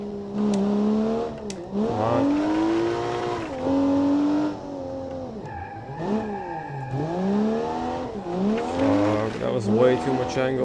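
A drift car in BeamNG revs hard and swings through slides. Its engine note rises and falls while tires squeal loudly and repeatedly on a narrow track.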